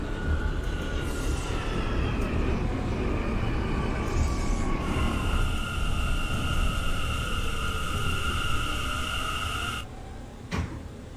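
Simulated R179 C subway train running in the OpenBVE train simulator, a steady loud rumble of wheels and motors with sustained whining tones that change, then a sudden drop and a brief clunk near the end; no talking.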